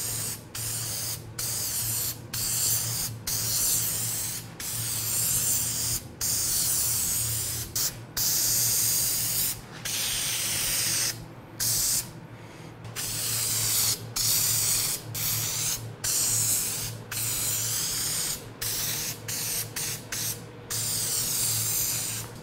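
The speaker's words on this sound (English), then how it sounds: "It's like you're spraying Spider-Man web." Headliner spray adhesive hisses from an aerosol can in repeated short bursts with sharp gaps between them, close and loud, while a Chevy Silverado Crew Cab headliner is being recovered.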